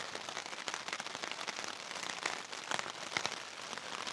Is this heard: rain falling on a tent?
yes